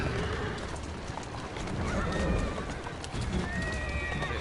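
A horse whinnies in Assassin's Creed Syndicate right after being shot, its cries rising over a dense, noisy game soundscape with faint hoof clatter, no voices.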